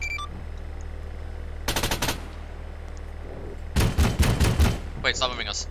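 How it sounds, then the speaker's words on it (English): Two bursts of automatic gunfire in ARMA 3: a short rapid volley, then after a pause a longer, louder string of shots over low steady background hum, with a voice briefly audible at the end. "We are under fire, under fire, under fire."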